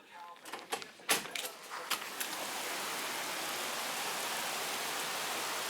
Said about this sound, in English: I just heard the rain. I've literally only been out a few minutes ago, but it sounds like it's quite heavy